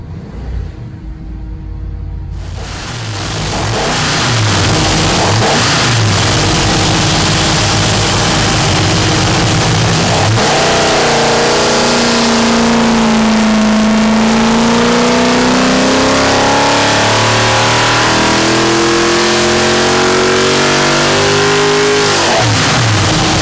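A car engine fitted with a Holley Double Pumper carburetor revs hard on a dyno, rising from a brief quiet start into a loud, sustained, climbing roar that fills the whole stretch.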